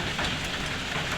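Hail pelts a street during a sudden storm, a dense, steady hiss of small impacts with continuous broadband clatter and no voices.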